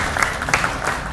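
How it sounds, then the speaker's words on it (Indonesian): An audience at an art competition outreach event in Indonesia claps in a short, moderately loud burst, individual hand claps audible within the brief spell of applause. "Tepuk tangan dong buat Mas Mika."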